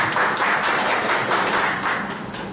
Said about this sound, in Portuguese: Aqui eu quero uma salva de palmas